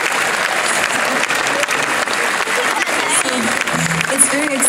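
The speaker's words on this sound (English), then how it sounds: "Yeah, we can applaud that." A concert audience at a show at Burg Abenberg in Germany applauds steadily and densely, with a few voices calling out over the clapping.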